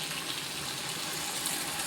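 A steady, close splashing gush of tamarind water being poured into a pot, continuous and fairly quiet, with no talk.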